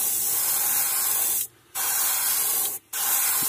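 Airbrush with a worn nozzle hissing steadily as it sprays paint for a threadfin shad pattern, with two brief pauses where the spray cuts off before resuming.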